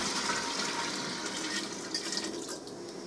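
Kombucha tea concentrate is poured carefully into a large container, giving a steady, close, continuous rush and splash of liquid that holds loud and unbroken throughout, with no talking.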